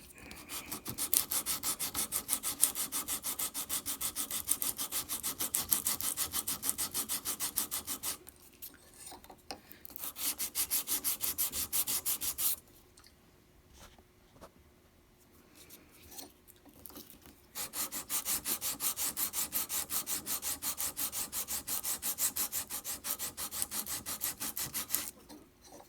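Excess solder being sanded down: long stretches of fast, even rasping strokes up close, broken by a brief pause and a longer quieter gap before the scraping resumes.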